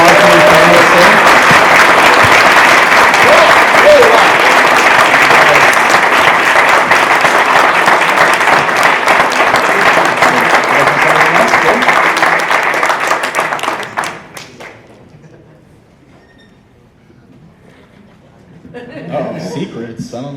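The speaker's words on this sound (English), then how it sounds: "Give a round of applause for these panelists." Audience applause for the panelists at the close of a Masters of the Universe Classics mini comics panel at Power-Con 2016, loud, sustained clapping with scattered chuckles for about fourteen seconds, then fading to near silence before faint crowd noise returns.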